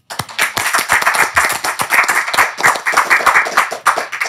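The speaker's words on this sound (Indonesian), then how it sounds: "Sekali tepuk tangan." Audience clapping at an Islamic-themed gathering, a loud burst of many hands striking in quick, uneven rhythm that holds steady for several seconds, close and alone without talk.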